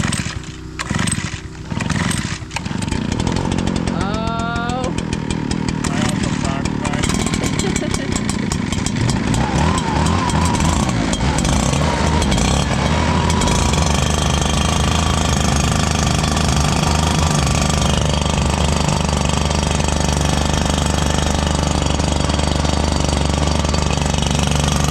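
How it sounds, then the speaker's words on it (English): ProRun PBB3000 and Echo PB9010 backpack leaf blowers start and run, sputtering briefly before settling into a loud, continuous, steady engine roar held close for the rest of the stretch. "Joe's gonna hop on a blower, Harvey's gonna hop on a blower, and we'll see who can send their shavings farther."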